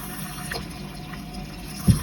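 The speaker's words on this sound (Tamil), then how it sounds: "இப்போ வந்துட்டு தண்ணி சேர்த்துக்கலாம்." Water is poured into a cooking pot over freshly washed, drained ingredients in a home kitchen, a steady soft splashing and trickling that runs for about two seconds and ends with a small bump near the finish.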